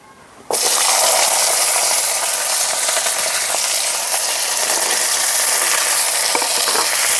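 Cut potatoes and okra are tipped into a pan of frying five-spice seeds, setting off an abrupt loud sizzle that holds steady and intense as the vegetables fry.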